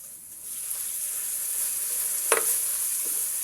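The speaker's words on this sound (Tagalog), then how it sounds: "Tangkotsa muna natin ang ating sibuyas bawang." Onion and garlic sautéing in a pan for chopsuey, a steady close hiss of frying with a brief louder sizzle burst near the end, as if stirred.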